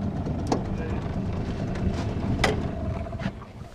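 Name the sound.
motorboat engine throttling up on a fishing trip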